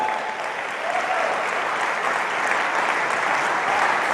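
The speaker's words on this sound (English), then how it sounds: "so no more clapping." An audience at a team webinar event claps in a sustained, loud burst of applause, a steady dense patter lasting several seconds with no talk over it.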